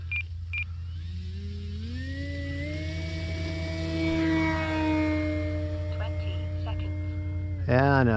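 An E-Flite Carbon Z Cessna 150T electric RC plane's motor whines steadily at about half throttle, the tone rising as it spools up, with people talking over it at an airfield.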